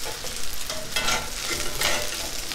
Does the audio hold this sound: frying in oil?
yes